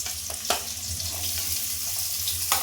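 Capsicum tossed into a pan where potatoes and carrots are already frying for a spicy suji upma, giving a steady close sizzle broken by a couple of sharp stirring clicks.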